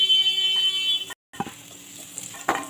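Potato pieces frying in a pan, cooked under a lid until browned, give a crackling sizzle with stirring scrapes and clatters. A high steady tone runs through it, and a brief silent gap breaks the sound partway.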